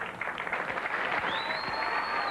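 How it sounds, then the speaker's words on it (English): Applause from a crowd of spectators at a women's professional bowling tournament, the US Open, a steady continuous clatter of clapping throughout, with a faint high whistle partway through and a commentator's voice underneath. "Great round of applause"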